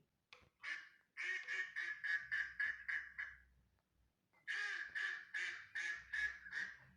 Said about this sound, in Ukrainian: Так, вони крякають